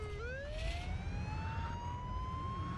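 A police siren wails in the Mafia II video game, its pitch sweeping upward and holding as a steady, loud wail that runs the whole time over low rumbling noise.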